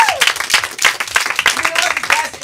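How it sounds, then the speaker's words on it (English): An audience at a live comedy show claps in a brief round of applause, uneven hand claps bursting over a lively room with voices and cheering mixed in throughout. "Give yourselves a round of applause."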